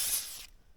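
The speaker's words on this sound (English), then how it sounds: "if you just give it a little hit with some silicone or WD-40" Silicone or WD-40 is sprayed from an aerosol can onto an electrical terminal on a 3500 HD High Country truck in one short, loud, close hiss that cuts off abruptly.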